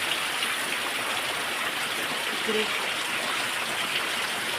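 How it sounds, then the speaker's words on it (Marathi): A constant rushing hiss of falling rain or running water fills the scene, fairly soft and unbroken, with no clear talking. "हे बघा किती पाऊस पडतो जाम पडतो पाऊस"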